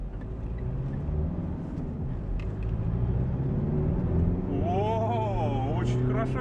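Mitsubishi Pajero Sport cruising on a highway, a steady broadband road and engine rumble with tire noise filling the cabin, a rising whine creeping in toward the end.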